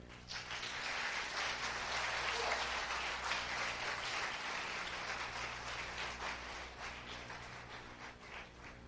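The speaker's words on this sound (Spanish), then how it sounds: "Dale un aplauso al Señor" A church congregation applauds the Lord during a Sunday missions service, a steady, fairly distant wash of many hands clapping for several seconds over a low hum.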